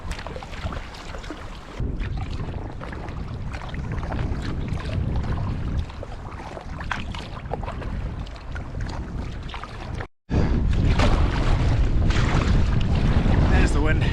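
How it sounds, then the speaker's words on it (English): Wind gusting over open water during inflatable kayaking in the Scottish Highlands, a loud rough buffeting roar against the microphone with shifting intensity and a brief dropout partway through. "There's the wind."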